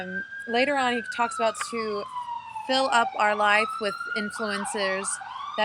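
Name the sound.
emergency vehicle sirens passing outdoors in Seattle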